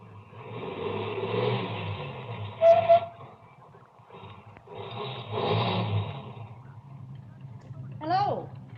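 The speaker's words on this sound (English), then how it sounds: "Then turned around and came back toward me." A car in a 1940s radio drama turns around and drives back toward the listener, its engine swelling and fading in two broad passes with brief squeaks. Voices are faint beneath it.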